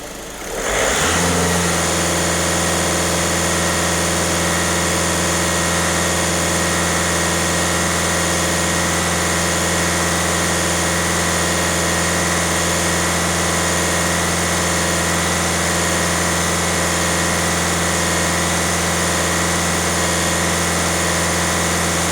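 A VW Touran 1.6 TDI diesel engine, under DPF and EGR cleaning, starts and then holds steady at full throttle, a loud continuous drone with strong low hum lasting throughout, no voices.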